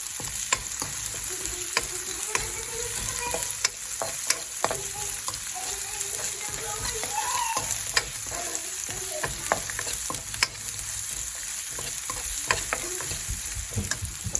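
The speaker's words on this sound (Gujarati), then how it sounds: "અને સાથે હું લઈ લઈશ ગાર્લિક, અને પછી તેને બ્રાઉન થાય ત્યાં સુધી હું સોતે કરીશ" Garlic and whole spices such as dried red chillies and cinnamon sauté in a pan, a constant crackling sizzle broken by frequent spoon scrapes and stirring clicks.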